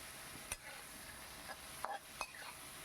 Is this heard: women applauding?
no